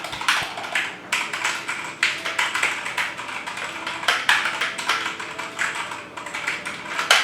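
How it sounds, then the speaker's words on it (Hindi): Rapid typing on a Redragon Fizz K616 Pro 60% mechanical keyboard: quick, close, crisp key clicks in uneven bursts that run throughout with short pauses. "कुछ इस तरीके से कीबोर्ड साउंड करता है जैसे कि अभी आप सुन पा रहे हैं।"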